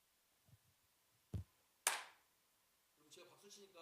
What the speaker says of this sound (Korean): 제대로 박수 소리 나잖아요